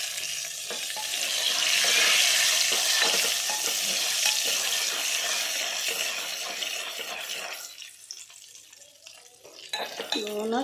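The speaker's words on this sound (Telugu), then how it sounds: "ఎండుమిరపకాయలు కూడా వేగినాయి కదా." Dried red chilies, mustard seeds, cumin and fenugreek fry in hot oil in a tempering for spinach dock pulusu, giving a loud, bright, close sizzle that swells and then eases, with a few utensil clinks near the end.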